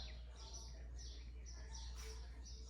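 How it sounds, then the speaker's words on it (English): Birds chirp outside an open window in short, repeated high tweets at a moderate distance. The calls are faint over a low, steady room hum, with no talking. "I have my window open and the birds chirping, so it's so peaceful."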